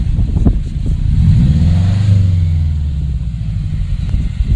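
A car engine cranks, catches and revs up with a steady loud rumble that rises and falls, close by inside the car, with no talk.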